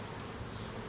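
Honeybees buzz in a dense, continuous drone around a hive during a suburban swarm transfer, a faint, steady hum with no voices.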